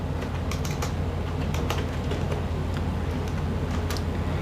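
Typing a regiment number into a defence pension web form on a computer keyboard, a brisk run of close, light key clicks with no talking.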